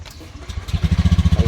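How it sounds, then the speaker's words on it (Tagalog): A motorcycle engine cranks, catches and settles into a fast, even idle with a pulsing low thump, close and loud over the brief span. "Start tayo ng ating motor."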